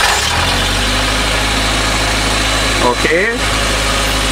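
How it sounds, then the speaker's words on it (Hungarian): A Suzuki engine fitted with a new propeller idles steadily after starting, giving a loud, even, low rumble with constant vibration, and a voice speaks briefly over it. "akkor egy alapjáratos indítás"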